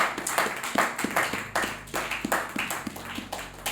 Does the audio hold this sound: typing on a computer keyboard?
no